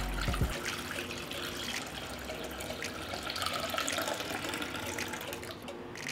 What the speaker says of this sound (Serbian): I zatim ću sipati vodu u šerpu do visine poklopca.